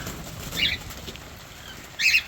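Two short bursts of birds fluttering in a coop, wings flapping close by, separated by a quiet stretch of faint room noise.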